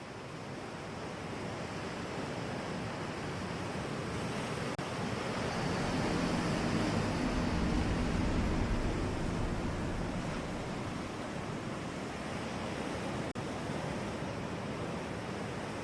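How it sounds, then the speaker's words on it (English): Calm ocean waves washing in a steady, unbroken surf wash, swelling slightly in the middle and easing again, soft and continuous with a faint breezy hiss and no voices. "Calm ocean sounds 1 hour."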